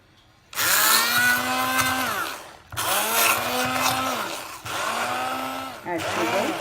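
Butter being whipped for an eggless cake, heard as three loud bursts of a whining electric beater motor separated by short pauses.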